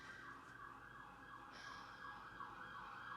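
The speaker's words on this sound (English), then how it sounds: "More sirens." Wailing emergency vehicle siren cycling steadily up and down, loud and continuous throughout, with a second siren tone joining partway through.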